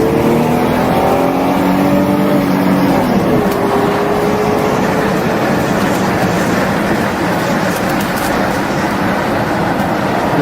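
An Audi 80 Cabriolet convertible pulls away in gear, its engine note climbing in pitch over the first few seconds and then holding a loud, steady drone with road noise, no talk.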